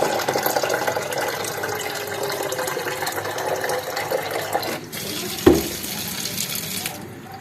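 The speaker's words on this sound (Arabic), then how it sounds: "وهنزل بميه سخنه على الهريسه" Hot water pours steadily over harissa chili paste in a jar for pickling cauliflower, a continuous watery splash with a brief sharp clink near the end.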